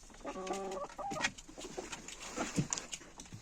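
Farm hens cluck and coo close by in a yard, short repeated calls and soft murmurs in a quiet setting with no one speaking.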